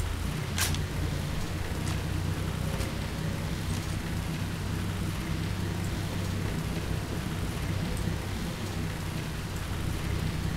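Steady, dense rain from the video game Left 4 Dead 2 hisses continuously at an even level, with a low rumbling undertone and a few faint brief crackles scattered through it.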